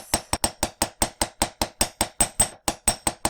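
Jewelry hammer striking metal on a steel bench block, about fifteen sharp, bright metallic taps in a steady, even rhythm, close and fairly loud with no voices.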